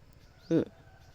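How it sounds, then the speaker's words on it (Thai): A little black goat gives one short, clear bleat close by, standing out above a quiet background. "อันนั้นแพะน้อยน่ะ แพะน้อย แพะน้อย แพะดำ"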